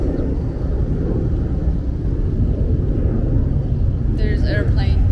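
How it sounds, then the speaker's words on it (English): Airplane passing overhead above a garden in Buenos Aires, a steady low rumbling drone that stays even throughout, distant yet fairly loud, with birdsong chirping near the end. "there's an airplane"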